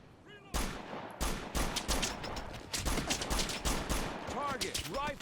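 Rapid bursts of rifle and automatic gunfire in the military shooter Operation Flashpoint: Dragon Rising, several close, loud volleys cracking back and forth over a busy battlefield backdrop.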